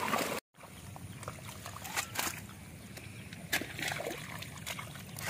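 Water trickles and gurgles through a freshly ploughed paddy field in Konkan, a soft continuous flow with faint irregular splashes and dribbles heard close by, quiet and without talk.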